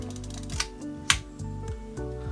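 Film advance crank being wound on a Voigtlander VF135 camera, giving a few close, soft mechanical clicks and ratcheting ticks over about two seconds, with one sharper snap partway through.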